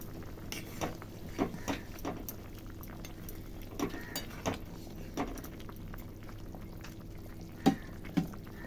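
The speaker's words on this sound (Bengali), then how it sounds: "ঝোলটা সুন্দর করে ফুটে গেছে" A fish curry broth with plantain and climbing perch bubbles under a covered pan, a steady low simmer dotted with scattered soft pops and light clinks, with no talk.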